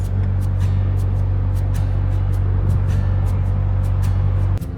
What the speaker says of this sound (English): You can hear all the cars.